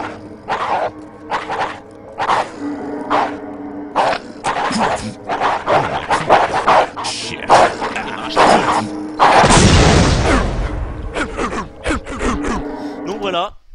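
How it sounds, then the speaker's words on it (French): Zombie dogs in a video game let out loud, repeated snarling barks and yelps in quick bursts, with a noisy blast or growl in the middle. "Alors c'est des chiens zombies donc ils mourront pas."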